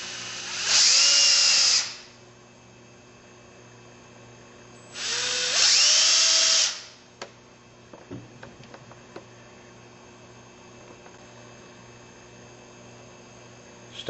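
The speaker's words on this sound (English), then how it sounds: "drill with a 3/32 drill a pilot hole for your number 6 screws that you'll be putting in later" A power drill boring a 3/32 pilot hole for number 6 screws whines loudly in two separate bursts of about a second each, then leaves quiet clicks and a low hum.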